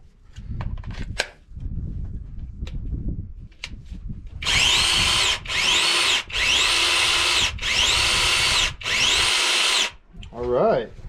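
A Seesii 8-inch handheld electric mini chainsaw, freshly oiled and with its guard off, whines loudly in five sustained bursts with brief gaps between them, spinning up and down after some quieter handling noises.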